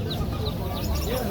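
Chickens, hens and roosters cluck and squawk amid the bustle of a poultry market, a dense, continuous din with a few higher calls poking through and voices mingling underneath.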